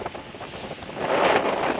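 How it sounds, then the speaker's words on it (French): Wind gusts across a sailboat at anchor off the Greek island coast, a soft rushing buffet of microphone wind that swells louder toward the end. "Le vent se lève"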